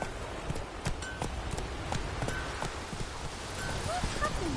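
Roach the horse gallops in The Witcher 3 with quick, steady clip-clop hoofbeats close by, a brief whinny and a faint murmur of voices underneath.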